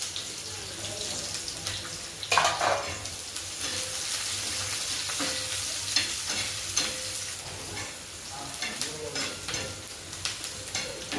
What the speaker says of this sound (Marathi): तो कांदा आपण तेलामध्ये परतून घेणार आहोत.